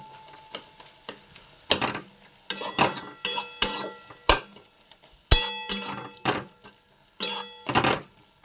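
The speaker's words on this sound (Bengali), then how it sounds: "এখানে দেখুন একটু ঘাটা ঘাটা করছি" A utensil stirs tomato chutney with panch phoron, oil and salt in a pan, making irregular clinks and scrapes that come in short clusters with brief pauses, close and fairly crisp.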